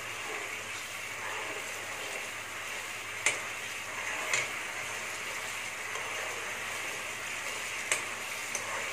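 Soft, steady bubbling and sizzling of tamarind sauce simmering in a pan, with a few faint clicks and taps rising above the quiet, continuous hiss.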